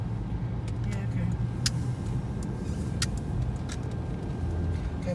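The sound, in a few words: Fiat Punto Mk1 car driving at night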